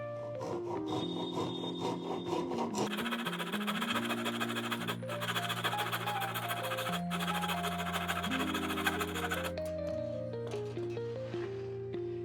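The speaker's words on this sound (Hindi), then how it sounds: "अब मैं दूसरी आरी से भी आपको कटिंग करके दिखाता हूँ" An ordinary hand saw cuts through wood with a continuous rasping scrape, heard alone and close against a background music bed.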